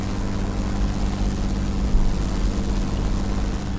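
Steady, loud propeller-engine drone from a British warplane in the flight game World of Warplanes, a continuous low roar with no break or voices.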